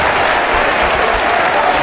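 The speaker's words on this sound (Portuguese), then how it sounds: "Vamos aplaudir mais ao Senhor Jesus." Audience applause at a Brazilian evangelical church service, a dense, steady wash of clapping hands that stays loud and even throughout without a break.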